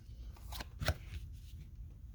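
Tarot cards dealt and laid out one by one on a table, giving soft papery slaps and flicks, with one sharper snap near the middle, all close and fairly quiet.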